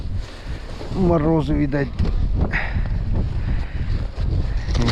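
Strong north wind on the Pechora river during winter ice fishing, loud rushing gusts buffeting the microphone throughout, with someone speaking over it.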